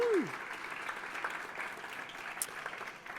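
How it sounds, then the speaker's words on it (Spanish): Audience applause at a conference panel on education technology, steady moderate clapping throughout from a seated crowd, with a brief tonal sweep at the start and a faint high click later. "Un aplaudiment."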